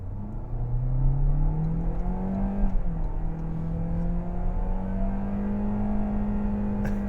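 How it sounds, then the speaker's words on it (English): A 2025 Toyota Corolla LE with a gas engine accelerates hard from 0 to 60 mph, its engine note rising steadily, dropping at a gear shift and climbing again, heard from inside the car with no talking. "That's just a raw 0 to 60 off the brake onto the gas."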